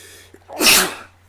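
One loud, close sneeze, a sharp sudden burst that fades within half a second, heard alone against a quiet background hum.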